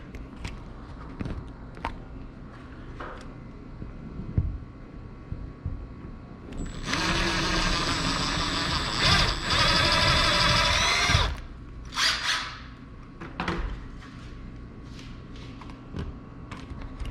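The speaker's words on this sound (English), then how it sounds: "I'm gonna drill a hole right here to push the cable up." A power drill bores a hole for a cable in a garage, a steady high-pitched whine lasting several seconds, framed by scattered knocks and handling noises before and after.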